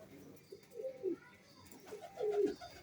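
Soft, throaty cooing from old-breed flying pigeons, a few rolling coos close by, the loudest near the end, over faint background noise.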